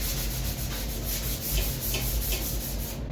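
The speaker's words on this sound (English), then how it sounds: "I just run a bit of I think it's about 240 grit, 240, 320 to denib that roughness off of this edge" Sandpaper of 240 to 320 grit rubs by hand along a painted wooden shelf edge in close, steady back-and-forth strokes with a dry scratchy texture, continuing without pause.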